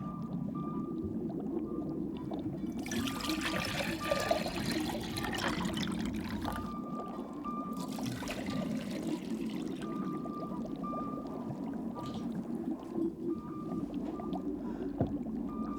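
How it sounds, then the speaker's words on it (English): Water pours and splashes into a container in a couple of steady bursts, close by, with trickling between them. "Now I'm gonna put the water that we displaced earlier on the other side."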